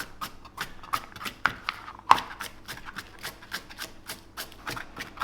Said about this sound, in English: nice thin slices and diced up nice and finely